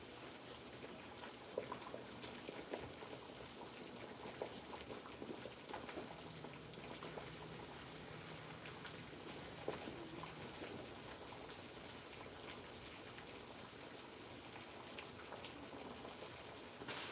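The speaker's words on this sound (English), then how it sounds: "All right, my boiling water is ready." Water boiling in a kettle or pot indoors, a steady low bubbling hiss with faint scattered pops throughout, fairly quiet and continuous without talk.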